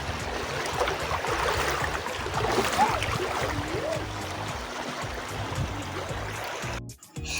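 A river flows in a steady, close rush with bubbling and trickling texture throughout, briefly broken by a few handling knocks near the end.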